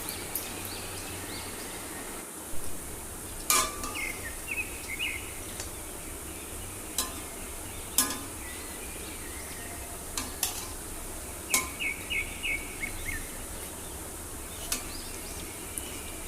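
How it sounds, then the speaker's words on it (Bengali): Masoor lentil fritters deep-frying in oil, a steady soft sizzle broken by sharp spatula taps and scrapes against the pan at irregular intervals, close and fairly quiet, with an insect-like buzz in the background. "এইভাবে আমি একে একে সব বড়াগুলো ভেজে নেব।"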